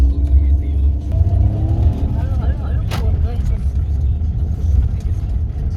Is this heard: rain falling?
no